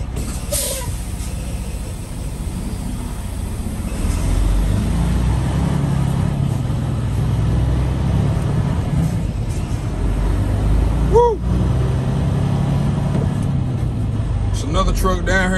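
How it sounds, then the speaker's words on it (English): A truck with air brakes idles and rumbles low and steady nearby, with a brief hiss and squeal of brakes partway through, under occasional speech. "Truck down here now."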